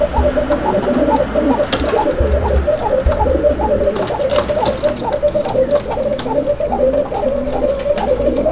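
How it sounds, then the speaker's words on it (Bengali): Several pigeons kept for sale at a market coo in repeated, rhythmic low calls close by, steady over background noise and occasional clicks, with no talking. "ডাকটা আমরা কত সুন্দরভাবে শোনাইতেছিলাম, এরই মধ্যে একটা ফোন কল চলে আসলো আর যেই কারণে কবুতরটার ডাকটা থাইমা গেল"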